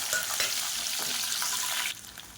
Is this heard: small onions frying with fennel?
yes